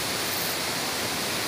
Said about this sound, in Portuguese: Cachoeira bonita.